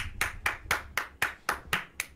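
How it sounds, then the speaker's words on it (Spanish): Eight sharp claps in steady rhythm, about four per second, from a single pair of hands, close and fairly loud, no voices. "¿Estás teniendo aplausos?"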